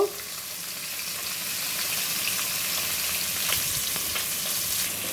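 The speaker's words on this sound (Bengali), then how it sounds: "দেখো মাছগুলো ভেজে নিচ্ছি হলুদ লবণ মাখিয়ে" Fish coated in turmeric and salt sizzles steadily in hot oil, a dense crackling hiss that holds at an even level throughout.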